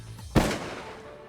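A single sharp rifle gunshot during a Wyoming antelope hunt, one loud close crack followed by a brief fading echo across open country.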